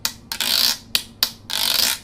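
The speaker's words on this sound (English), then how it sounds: "this instrument is called a guiro" Guiro scraped in several strokes: long raspy scrapes alternating with short sharp single strikes, close and fairly loud, with no talking.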